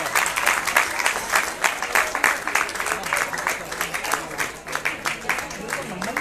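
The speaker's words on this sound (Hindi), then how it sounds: "तालियां बजती रहे इन छोटे छोटे बच्चों के लिए" Audience applause for young schoolchildren coming onto the stage at a tribal science festival in Uttarakhand, a steady dense clapping that holds throughout, with a voice speaking over it.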